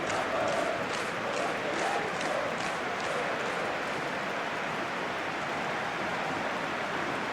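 A big stadium crowd in a football video game, USA versus Belgium at the 2026 World Cup, roars in a steady loud wash, with brief rhythmic chant bursts near the start.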